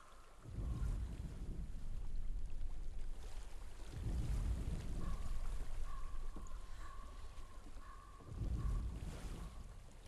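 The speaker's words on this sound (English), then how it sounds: "I hear water." Gentle water laps in the video game Hellblade: Senua's Sacrifice, a faint, continuous wash with soft low surges that swell and fade every few seconds under a breezy ambient bed.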